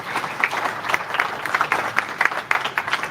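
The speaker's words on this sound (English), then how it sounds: "Can we get a round of applause for everyone who stood up?" Applause at an AI demo night rises for everyone who stood up: a room of people clapping in an uneven, moderately loud patter with individual claps popping out, lasting a few seconds.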